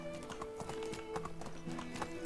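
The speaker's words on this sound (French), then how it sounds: "Il arrive par là, gentil cheval." Horse hooves clip-clop at an easy walking pace in the medieval village setting of the video game Medieval Dynasty, a steady rhythmic series of close hoofbeats over faint background music.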